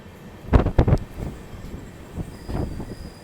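Narasapur-Tirupati express train at Bitragunta railway station during a technical halt, a few close clanking wheel and coupling knocks followed by softer rail thumps over a quiet hum.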